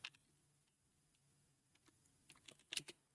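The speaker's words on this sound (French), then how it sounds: "Je suis vraiment en train de taper ça sur Google." Keys on a computer keyboard tap lightly, scattered at first and then in a quicker burst of clicks near the end, faint and close against a quiet room with no talking.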